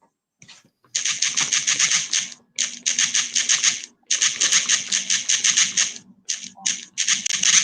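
Rapid bursts of typewriter keystrokes clatter in fast runs separated by short pauses, close and fairly loud, during a live baseball watch party.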